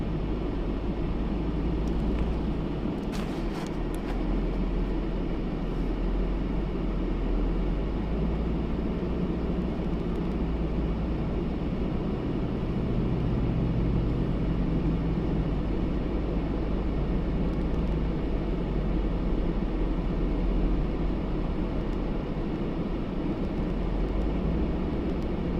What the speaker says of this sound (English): There's another helicopter.